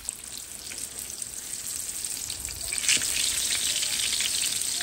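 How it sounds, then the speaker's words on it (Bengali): Aubergine slices fry in a pan of hot oil, a continuous crackling sizzle that grows a little louder partway through, with a short sharp stir or splash. "আর বিরিয়ানির সাথে আমি বেগুন ভাজা রান্না করতেছি"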